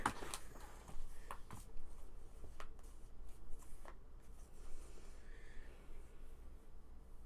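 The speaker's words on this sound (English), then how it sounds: "Sure you shuffled good enough?" Playing cards are shuffled for a board game of Pandemic Legacy, giving soft riffling and tapping clicks close by in scattered bursts over a quiet background hum.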